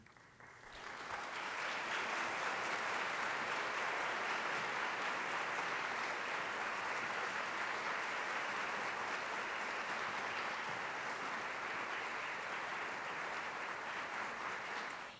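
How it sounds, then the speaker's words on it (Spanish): Audience applause at an award ceremony: broad, dense clapping from a large crowd swells within the first second and holds steady and full for around fourteen seconds before tapering at the end. "Y le voy a pedir al público otro aplauso."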